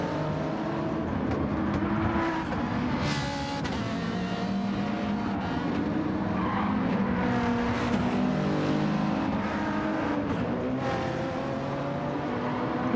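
Race car engines roar in a Gran Turismo 7 Manufacturers Cup race. A dense, continuous drone of several engines holds steady at close range, rising and falling slightly as the pack runs, with no talking.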